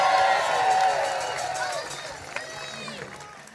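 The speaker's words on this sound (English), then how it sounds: "Let's give her a huge round of applause" At an outdoor protest rally, a crowd cheers and claps for an incoming speaker, the applause loud at first and gradually fading, with scattered voices and whoops throughout.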